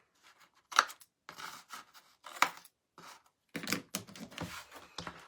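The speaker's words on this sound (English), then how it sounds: "you just lay your scissors against the back of your heart and start cutting" Small scissors snipping at the back of a carved faux heart, a series of crisp, close cuts in uneven bursts with short quiet gaps between them.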